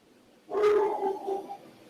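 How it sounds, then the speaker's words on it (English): Over a phone line, a dog barks in the background, giving one muffled, drawn-out bark that trails into a faint whine, moderately loud with no talk over it. "You got dogs in the background?"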